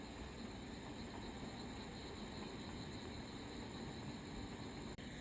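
A distant train passing at night makes a faint, steady low rumble that holds evenly throughout, with no talking.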